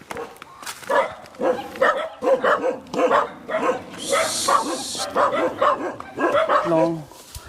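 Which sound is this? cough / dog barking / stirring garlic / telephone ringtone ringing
dog barking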